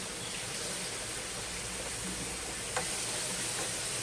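A tablespoon or two of minced garlic and mushrooms stirred in a pan, with a soft steady sizzle and faint scraping, quiet and continuous.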